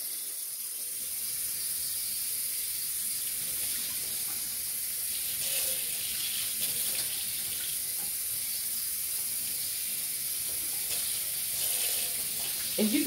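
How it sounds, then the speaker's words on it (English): Tap water runs steadily over a person's hair as it is wetted before shampooing, a continuous close hiss and splash lasting throughout with small splashy variations. "by putting water on my hair. To get it nice and wet."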